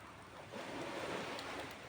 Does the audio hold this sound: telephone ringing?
no